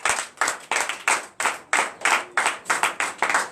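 A church congregation at a Sunday worship service in Comè, Benin, claps in a steady rhythmic pattern, about a dozen sharp, moderately loud beats in quick succession with no voices over them.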